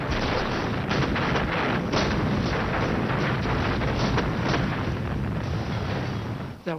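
An artillery barrage sound effect depicting the Soviet attack on Berlin, a dense continuous roar of booming blasts and rumbling fire, loud and unbroken for several seconds before cutting off abruptly.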